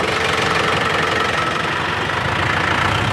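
A tractor engine runs steadily while it pulls a planting unit sowing Sonora heritage wheat, a loud, close, continuous mid-pitched rumble with knocking vibration and no voices.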